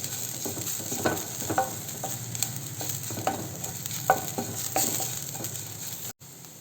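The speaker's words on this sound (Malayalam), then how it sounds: "ഇങ്ങനെ നമുക്ക് ഈ ലോ ഫ്ലെയിമിലിട്ടിട്ടൊന്ന് വഴറ്റിയെടുക്കാം" Spice paste for Thrissur-style cheera dal sautés over a low flame with a soft continuous sizzle, punctuated by regular scraping stirs of a spatula in the pan.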